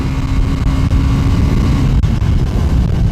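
A KTM Duke 250 engine heard close and loud, churning and revving high toward its 7000 rpm shift light, with rough low-end pulsing and short dips in power.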